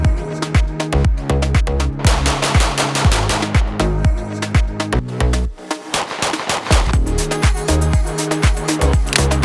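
Several 5.7x28mm pistols, a PSA Rock, an FN and a Ruger, fire at a range in loud, rapid, sharp shots at a quick steady pace, with one brief pause before the shooting resumes, and no talking.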